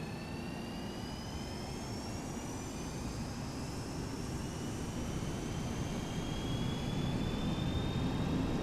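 A Boeing 737-200 jet in the X-Plane 11 flight simulator spools up for takeoff, a steady deep engine roar with a rising whine slowly climbing in pitch, gradually growing louder, no talking.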